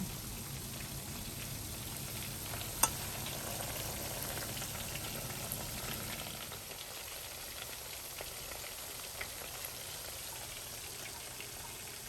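Chicken pieces frying in a pan for sweet and sour chicken, heard as a steady soft sizzle and crackle, quiet and continuous with a few small pops, easing slightly after the pieces are turned.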